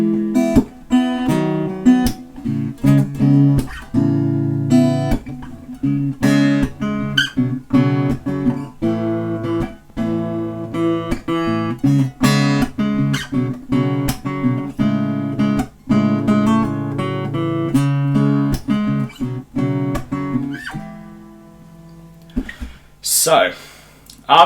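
Guitar playing the last bar of the chorus into the post-chorus of a song, with close, rhythmic strummed chords throughout, then a quieter stretch and a brief noisy scrape near the end.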